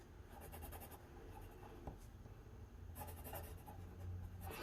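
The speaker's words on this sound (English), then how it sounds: "I'm actually going to take my pencil and I'm going to sign my name in the right hand corner." Pencil signing a name on paper, soft, close scratchy strokes in quick bursts with brief pauses between them.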